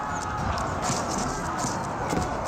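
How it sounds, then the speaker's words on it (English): Mounted horsemen advance with a busy, continuous clatter of hooves in the Age of Empires 4 strategy game, mixed into a dense wash of battlefield ambience at steady volume. "Now I've got the horses advancing forward."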